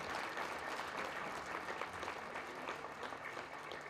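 An audience at a memorial lecture applauds steadily for the whole span, a dense, even wash of clapping heard at a distance without any voices.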